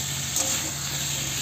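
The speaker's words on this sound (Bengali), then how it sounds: "এবার এটা একটু ভাজা ভাজা হোক" Soybean chunks and potato pieces fry in hot oil with salt and turmeric in a pan, giving a steady close sizzle with a brief scrape of stirring early on.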